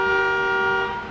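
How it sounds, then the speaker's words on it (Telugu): Single sustained car horn honk, loud and close, with a clear steady tone lasting about a second and fading slightly at the end. "car horn మోగిందంటే"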